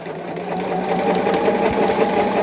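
A sewing machine stitches quilt block pieces together with a steady, fast mechanical hum and rattle, close and continuous throughout.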